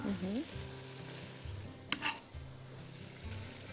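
Vegetables and garlic are stirred in a frying pan, a soft scraping rub repeating over a low steady sizzle, with a brief clatter midway; quiet and close.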